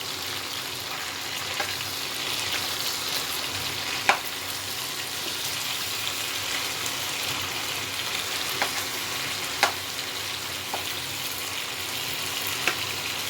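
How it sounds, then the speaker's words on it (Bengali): Chicken chaap pieces frying in a pan after being flipped, a steady dense sizzle with occasional sharp pops and light utensil clicks, close and continuous. "এবার উল্টে আমি ভেজে নেবো"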